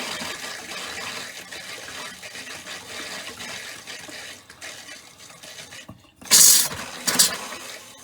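Water runs steadily through a camper's plumbing while the system is flushed during de-winterizing, a constant rushing flow that dips briefly and is then followed by two louder, hissing gushes.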